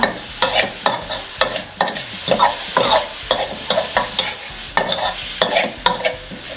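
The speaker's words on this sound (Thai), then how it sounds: "เราใช้ไฟอ่อนในการผัดนะคะ" Sugar and preserved radish are stir-fried over low heat, with a rhythmic run of sharp spatula scrapes against the pan over a soft, constant sizzle.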